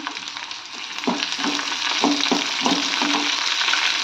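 Ginger and garlic fry in a hot pan with a steady, close sizzle. Spatula scrapes and stirs break through it every half second or so.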